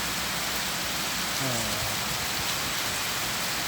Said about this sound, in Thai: วันนี้นะครับก็ฝนตกหนักนะครับ